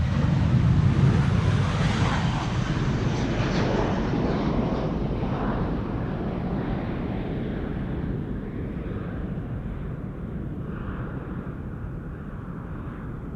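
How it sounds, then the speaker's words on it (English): A KLM Boeing 737-800 departs Amsterdam Schiphol for London Heathrow, its jet roar loud and close at first, then thinning and receding steadily into the distance. "This is KLM flight 1007 to London Heathrow"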